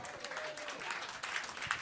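Applause from a small crowd at a Dutch prize handover, quiet scattered clapping with a few louder claps and faint voices mixed in.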